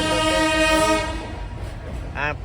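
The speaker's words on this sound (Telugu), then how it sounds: "ఒక ట్రైన్ అయితే వచ్చింది బయలుదేరుతుంది" A train at Katpadi Junction sounds a loud, sustained horn blast near the platform, then the horn fades into rumbling rail noise before a second short horn toot sounds near the end.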